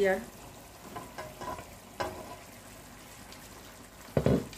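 Raw mrigal fish pieces dropped into a pot of boiling bottle gourd curry, giving a low sizzle and bubbling with faint stirring clinks and a louder splash and sizzle burst near the end.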